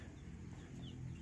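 Chickens in a backyard coop clucking softly while they eat freshly given feed, a faint steady murmur of low clucks with no talking.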